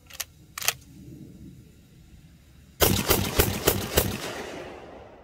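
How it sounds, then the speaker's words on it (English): A Girsan MC312 Sport semi-automatic shotgun fires outdoors: two separate shots, then a quick string of about five loud blasts in rapid succession, each ringing and echoing away. "Okay, now we're just going to go rapid fire."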